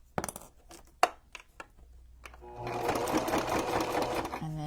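A sewing machine stitches the cover of a Halloween junk journal, opening with a few sharp clicks and taps before settling into a steady, close mechanical whir that runs to the end.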